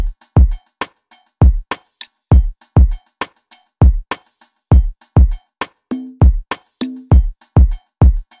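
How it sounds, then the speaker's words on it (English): Looping afrobeat/dancehall drum beat made in FL Studio, with booming kicks, crisp hi-hat ticks, conga and shaker accents in a bouncy groove, loud and without any talking. "Then I added these hi-hats, the congas and shakers"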